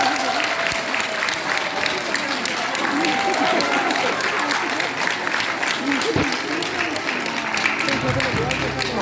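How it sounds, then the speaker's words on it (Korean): Audience applause from a crowd at a political town-hall event in Sejong during a bouquet presentation, steady and sustained throughout with voices mixed in. "여러분 박수 부탁드릴게요."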